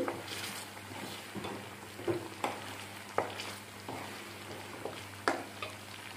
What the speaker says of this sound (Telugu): పచ్చివాసన పోయే వరకు అలా వేయించుకుంటానే ఉండాలి. అల్లం వెల్లుల్లి పేస్ట్ వేగితే ఆయిల్ పైకి వచ్చేస్తుంది.